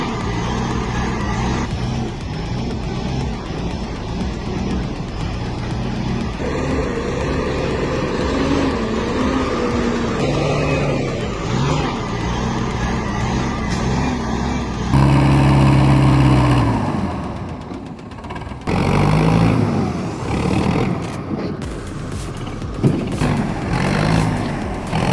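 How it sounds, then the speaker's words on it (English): Heavy diesel engine of a logging truck overloaded by at least five tons, drawn by a 600i50 tractor, pulling hard with a steady loud drone, a rougher, louder surge midway, mechanical clatter and shifting tones, no talking. "The suspension is screaming, but that diesel engine just keeps pulling without hesitation."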